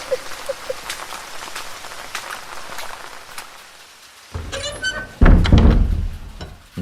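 Rain falls steadily in a Bengali audio play, a soft patter of drops with scattered taps. It is followed by a door thump and louder knocking and banging sounds near the end.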